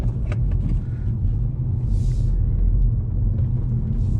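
A Volkswagen GTI hatchback cruises along a road, its engine and tyre rumble a steady low drone close by, with a couple of faint higher whooshes passing briefly over it.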